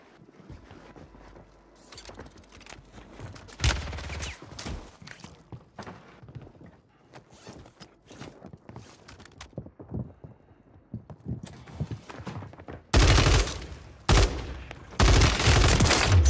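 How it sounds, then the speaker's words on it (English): Gunfire in Warzone, a call-of-duty battle royale shooter: scattered shots and footstep-like clatter early, then loud dense bursts of shooting near the end, close and heavy, with no talk. "Bro, who is shooting at me that he still sees me?"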